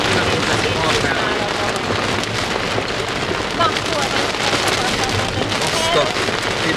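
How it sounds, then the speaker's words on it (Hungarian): Heavy rain mixed with hail pounds a surface in Dabas, Hungary, a loud dense continuous patter with sharp scattered impacts throughout and no break. "Tehát az eső."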